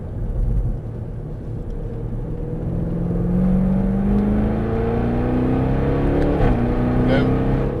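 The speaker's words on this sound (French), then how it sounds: "Allez, on met les gaz." A Jaguar F-Type SVR accelerating hard on a track, engine rising steadily in pitch through a long pull with a brief shift near the end, loud and close from inside the car.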